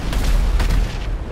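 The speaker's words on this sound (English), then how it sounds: "So it can only take 5 sticky bombs" Sticky bombs exploding on a Kosatka submarine in a video game: a deep, rumbling boom that rolls on heavily and continuously for about a second.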